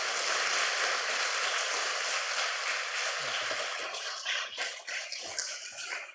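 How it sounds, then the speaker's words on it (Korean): Church audience at a Sunday afternoon worship service applauds as a missionary comes up to the front, a dense, steady wash of clapping that thins and breaks up toward the end. "여러분 뭐 박수, 갈채, 환호,"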